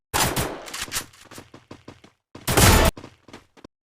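Video game gunfire with headshots: a rapid string of sharp single shots followed by a dense, loud burst, then a few more shots, with brief gaps of silence.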